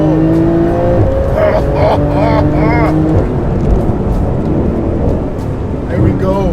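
A Porsche race car accelerates hard on a track, its engine note rising in steady revving pulls that stay loud and close, with someone talking over it.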